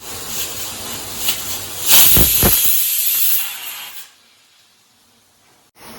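A pressure cooker cooking green peas lets out a loud, close hiss of escaping steam for about two seconds, then it fades to near silence with a brief noise at the end.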